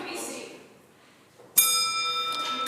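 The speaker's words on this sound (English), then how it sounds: "The bell ends the question period." A bell rings to end question period in a legislature chamber, striking suddenly after a quiet stretch and sustaining a bright, ringing tone that lingers to the end.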